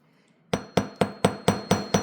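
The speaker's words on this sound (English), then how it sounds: "I'm going to hammer out all those dings I had in this wire" A hammer strikes wire to knock out dings for a cabochon wire frame, seven sharp metallic taps in a steady, even rhythm, close and clear with no talking.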